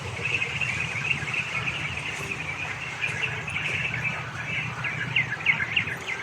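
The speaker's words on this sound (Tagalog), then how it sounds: "diyan na naman yung uwak ko" A crow calls in the distance over a steady outdoor background hum on a hot day, with birds chirping and faint repeated calls scattered throughout.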